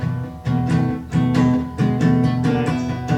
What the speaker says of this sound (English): The hardest part of this whole thing is the descending lines.